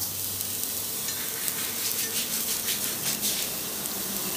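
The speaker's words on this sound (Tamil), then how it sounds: "அடிபாகம் வெங்காயம் மட்டும் அப்படியே ஃப்ரை ஆகும் எண்ணெயில்" Onion rava dosa fries in oil on a pan, producing a bright, continuous crackling sizzle with fluttering bursts of hiss, close up and without voices.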